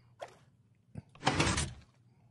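A Minecraft piston door moves under redstone power: a couple of faint clicks, then one short, sliding mechanical push. It is quiet, isolated and over within a second.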